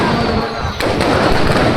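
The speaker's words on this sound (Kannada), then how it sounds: "100 ತರದ ಕಲರ್ ಆದಂತ ಪಟಾಕಿಗಳನ್ನು ಹಚ್ಚುತ್ತಾ" Colorful fireworks set off during a large Hindu procession and Ravana-burning festival in Doddaballapur, a dense crackling roar of bursts with a sharp bang midway, loud and close amid crowd noise.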